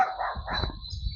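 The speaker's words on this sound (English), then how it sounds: "there will be tons of dogs barking" A dog on a jungle property in Belize gives a short, near bark with a whine-like edge over a steady high insect drone.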